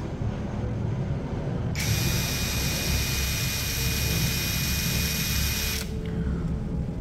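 A DCK KDPL03-14 cordless brushless impact driver spins freely at low speed for about four seconds with a steady high-pitched whine, close and loud against a constant background rumble, then stops.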